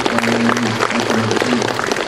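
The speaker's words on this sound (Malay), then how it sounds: "kita sama-samalah bagi tepukan gemuruh" Thunderous applause from an audience at a relaxed talk event, dense steady clapping filling the room with a low voice humming faintly beneath it.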